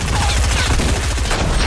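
Rapid automatic assault rifle fire in an online shooter game, a dense sustained burst of close, loud shots running through the whole moment.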